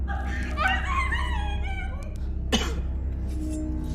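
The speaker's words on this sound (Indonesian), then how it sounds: "Tapi tiba-tiba ia batuk" A single sharp cough after vaping bursts out near the end of a short scene, following a few seconds of tonal, voice-like sounds over a steady low hum.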